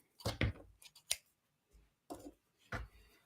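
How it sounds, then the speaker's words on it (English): Scissors snip through a section of thread, giving a few sharp close crisp cuts spaced irregularly over a few seconds in a quiet room. "Scissors."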